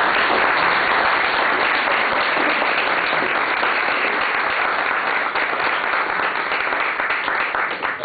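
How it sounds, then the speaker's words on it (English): Dense, sustained applause from a lecture audience welcoming a speaker on Korean traditional architecture, steady and loud throughout with no break. "let's welcome Peter with a big round of applause."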